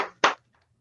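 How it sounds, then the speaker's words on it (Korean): One person clapping hands in welcome at the start of an art therapy class, two sharp, close claps in quick succession, then silence. "제가 환영의 뜻으로 박수를 치겠습니다."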